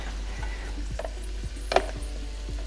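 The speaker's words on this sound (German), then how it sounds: "Und jetzt gebe ich mein Hühnchen dazu." Chicken pieces dropped into a Tefal ActiFry, giving a few soft thuds and clatters spaced about half a second apart over a steady low appliance hum, close and fairly quiet.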